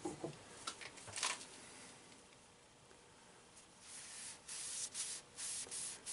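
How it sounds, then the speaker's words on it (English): Finish is rubbed onto purpleheart wood turning on a lathe, giving faint, uneven brushing and swishing strokes with short bursts of friction. "how the wood comes to life when you start rubbing it with the goodies"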